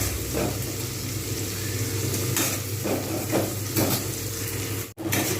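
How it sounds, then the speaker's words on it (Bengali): A steady sizzle of onions frying in a pan, with occasional stirring scrapes of a utensil against the metal. "পেঁয়াজগুলোকে একটু লালচে করে ভেজে নেবো"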